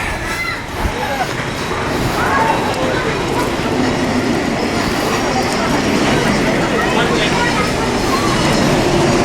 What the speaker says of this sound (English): The train goes right up there.